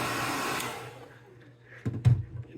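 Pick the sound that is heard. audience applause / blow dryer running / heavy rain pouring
blow dryer running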